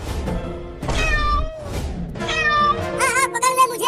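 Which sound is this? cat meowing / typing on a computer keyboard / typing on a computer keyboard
cat meowing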